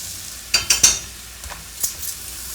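Chunks of beef stew meat stirred and sizzling in a pot, with a few sharp scraping clinks of the spoon against the pot over a soft, steady fry.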